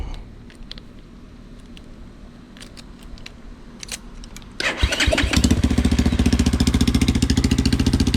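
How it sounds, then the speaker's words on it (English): A motorcycle engine starts up partway through after a stretch of quiet shuffling, then runs loud and close with rapid, steady firing pulses to the end. "Let's start this bike real quick. I want you guys to hear it."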